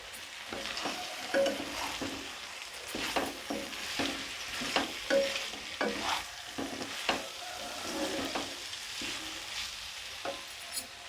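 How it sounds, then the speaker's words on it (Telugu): Chopped tomatoes in a hot pan for a curry, sizzling softly while a spoon stirs them, with repeated scraping strokes at an irregular rhythm, fairly close. "కట్ చేసుకున్న టమాటోస్ వేసుకోవాలి."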